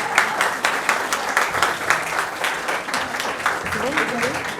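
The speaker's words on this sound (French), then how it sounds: "Applaudissements, applaudissements." Wedding show audience applauds with steady, dense clapping from start to finish, and a voice speaks faintly near the end.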